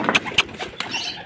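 A few pigeon coos and short fluttery bursts close by, with soft rustling between them; no one speaks.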